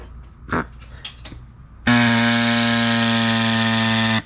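An air-powered cutting tool on a Turbo 3800 Camaro project kicks on abruptly after a few faint knocks, then runs at a loud, steady, high-pitched whine with a strong buzzing drone, close and unbroken until the end.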